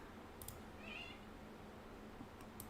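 A cat gives a single short, faint meow against a quiet background of low hum and soft noise.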